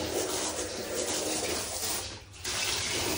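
A pet dog is washed under running shower water, a steady close hiss of spray that dips briefly near the end before resuming at full strength.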